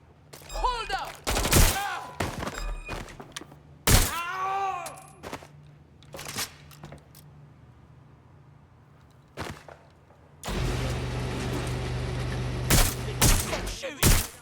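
Gunfire in the Watch Dogs: Legion video game, with sharp loud shot bursts and cracks scattered through the scene, a sustained stretch of rapid fire near the end, and voices talking between volleys.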